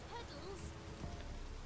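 Rain falls steadily in The Witcher 3, a soft, constant patter and hiss under faint background game sounds, heard up close with no one speaking.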